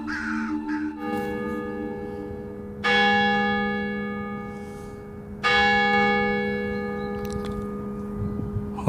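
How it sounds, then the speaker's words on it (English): A church bell hangs in an abandoned ghost town and rings out with two loud strikes, each followed by a long humming decay. Crows caw in the background. "Well, the bell still works."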